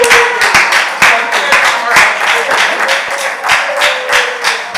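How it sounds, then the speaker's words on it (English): A crowd at a youth huddle applauds Patrice Perry, its national director. The clapping is steady and loud, with crisp, closely spaced hand claps continuing for several seconds and some voices mixed in. "Let's clap her up."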